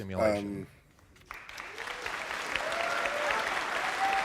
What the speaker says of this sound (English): I'm very loudly cheering for this.